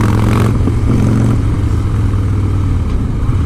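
A 2016 Harley-Davidson Breakout with a Stage 1 upgrade drops through the gears and slows, its loud, close engine rumbling and surging before settling into a steadier, lower drone under heavy wind noise.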